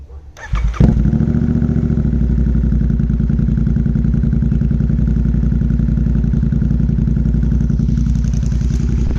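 A GT650 motorcycle engine starts with a brief crank, then settles into a steady, loud, close idle with a rapid, even chugging pulse.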